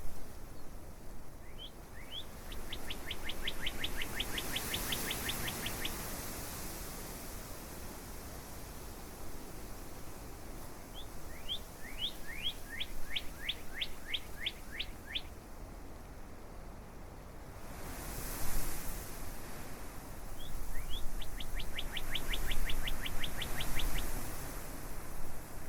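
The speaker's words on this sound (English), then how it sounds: "Let's just listen to the beautiful birds and the sound of the grasses blowing in the wind." Birds sing in a prairie nature park in September, with three separate bursts of rapid, high trilling notes over a steady hiss of wind through grasses, fairly faint and at a distance.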